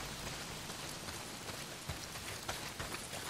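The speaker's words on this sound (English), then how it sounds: "Well, not if it's pissing down rain." Heavy rain in the video game Days Gone pours steadily, a dense continuous hiss of drops striking surfaces with scattered sharper spatters, fairly quiet and without voices.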